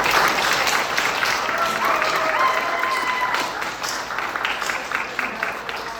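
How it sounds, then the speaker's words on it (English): An audience at a high school jazz concert and theatre showcase applauds steadily, a dense wash of clapping that tapers slightly toward the end. "please, one more round of applause for them"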